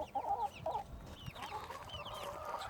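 Hens in a backyard flock with a rooster make quick, close clucks and soft chattering calls, overlapping in a busy burst with no voices.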